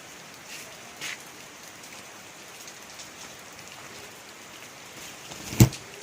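Steady all-day rain falls on a cold day at a temple, making a soft, even hiss with a brief thump near the end and no voices.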